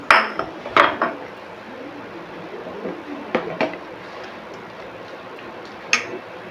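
Instant mango pickle being stirred in a pot with tempered oil, a few sharp metallic clinks and clanks of a spoon against the pot spaced over a soft background, close and without talk.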